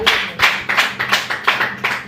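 A church congregation clapping hands in praise of God, sharp rhythmic claps in a steady beat of about six strong strikes, loud and close with no talk.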